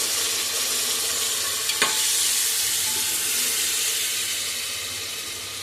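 Onion and tomato fry in oil with a steady, close sizzle and hiss, broken by one brief clink of a utensil early on.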